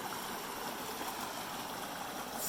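Jake's Creek, a stream in the Smoky Mountains, rushing steadily with a continuous, even wash of flowing water and no voices.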